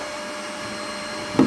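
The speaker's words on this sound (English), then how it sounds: "The vacuum cleaner sucking the dust out." A vacuum cleaner draws dust out of a sandblast cabinet, a steady droning whine with a constant hum, ending in a short louder knock or bump.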